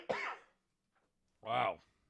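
A person imitates a cough in a silly, exaggerated voice, giving two short, hoarse, voiced bursts separated by a brief pause, close to the microphone.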